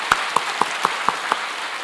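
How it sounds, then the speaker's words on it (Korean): Six crisp, evenly spaced claps ring out in unison from a congregation during a Sunday worship service at a Full Gospel church in Daegu, with brief quiet between each clap. "우리 하나님께 감사 박수 올리시기를 축원합니다."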